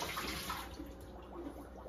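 Water pours steadily out of the water reservoir of a Keurig K-Slim + ICED coffee maker, a continuous splashing gush held close and fairly quiet for about two seconds.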